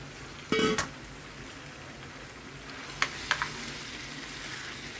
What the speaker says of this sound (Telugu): దోసకాయలు నూనెలో మగ్గుతున్నాయండి